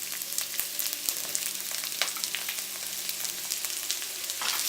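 Sliced onion hitting golden-browned garlic in hot oil, a bright, crackling sizzle that spits and pops continuously, close and fairly loud.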